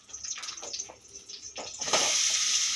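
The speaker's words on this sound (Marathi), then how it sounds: "तुपात परतून घ्यायचं आहे आपल्याला पनीर" Paneer frying in hot ghee gives a steady, fairly loud broadband sizzle that swells into a denser hiss partway through, with no talking.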